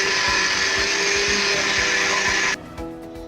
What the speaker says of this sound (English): We've just blended for around 2 minutes.